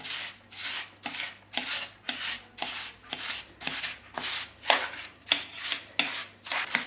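A fork rakes through partly frozen grapefruit granita in a pan, about a dozen rhythmic icy scraping strokes, each a crisp rasp spaced under a second apart, close and fairly quiet with no talking.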